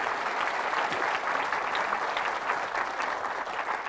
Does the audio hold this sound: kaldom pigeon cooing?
no